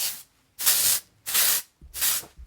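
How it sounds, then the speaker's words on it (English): Oribe texture spray misted over styled hair curls: three distinct pressurised hissing bursts, each roughly half a second long, close and even, separated by short silences, with a faint fourth puff at the start. "I will just give it a good spray over the curls"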